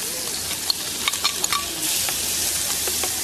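A sauce frying in a pan with pine kernels and tomato, giving a steady loud sizzle with brief clicks and scrapes of stirring near the start and no one speaking.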